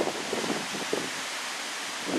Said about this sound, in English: It's kind of windy tonight